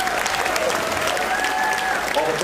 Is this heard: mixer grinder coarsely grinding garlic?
no